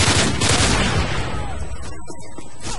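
Gunfire in Call of Duty MW3 survival mode. A loud, dense burst of shooting opens, then fades into scattered echoing shots and rumbling.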